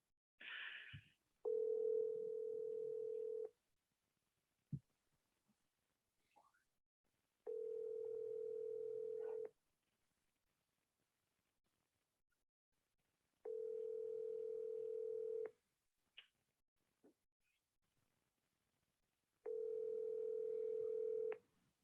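A telephone line rings out while a call is being placed: a short tone at the start, then four long, even ring tones separated by quiet pauses, with a few faint clicks between them.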